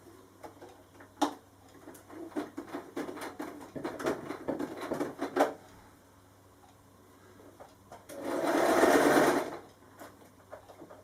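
A sewing machine back-tacks on pashmina fabric being made into a kimono, with short bursts of rapid stitching followed by a louder, sustained run of stitching near the end.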